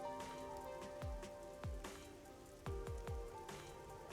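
Rain falls in the Master Detective Archives: RainCode video game, a quiet, steady patter broken by several louder, distinct drips landing at uneven intervals.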